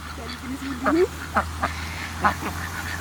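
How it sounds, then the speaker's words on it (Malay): Ducks quack in several short, loud bursts at a park pond in Canal Park, Alamsari, Bangi, close by over a steady low background hum. "Selalu itik kejar orang, ni kita kejar itik."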